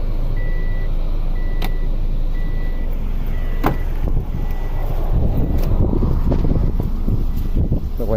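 Steady outdoor wind roars and buffets around a 2007 Subaru Forester with a door open, a continuous low rumble with gusty low-end rises in the later seconds and a few faint high tones on top.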